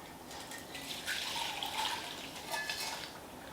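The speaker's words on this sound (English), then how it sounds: "very carefully, we're going to strain in the oil into that chili sesame mix" Hot oil is strained into a chili and sesame seed mix, a faint, bubbling sizzle with soft crackles and splashes, alone without talk.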